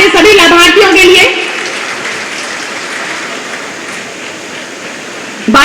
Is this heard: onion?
no